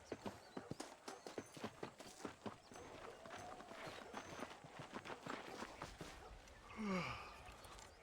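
Horse hooves clip-clop as a rider travels in the Red Dead Redemption video game, a quick regular gait of distinct strikes that loosens into a looser shuffle, with a snort or whinny near the end.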